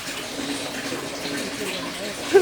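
A small river runs beside a tropical forest hiking trail on Mount Salak, giving a steady, even rush of flowing water that holds at the same level throughout.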